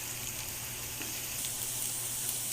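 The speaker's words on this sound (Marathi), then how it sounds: "आता यामध्ये साधारण एक शिरेला कांदा आणि मिरची टाकूया आणि हे व्यवस्थित परतवून घेऊया" Onion and green chili sizzle steadily in hot oil with mustard seeds and cumin, a soft continuous frying hiss throughout with no talking.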